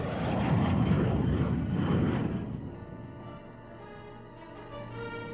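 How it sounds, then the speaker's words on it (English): Military jet aircraft roar loudly overhead during a mock battlefield engagement, the broad engine rush swelling then fading into a distant tonal whine as they pass, with no talking. "Those jets didn't materialize out of thin air."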